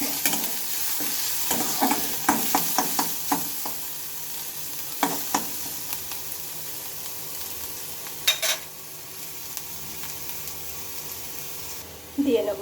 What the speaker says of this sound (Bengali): পেঁয়াজগুলো একটু ভালোভাবে আমি ভেজে নেবো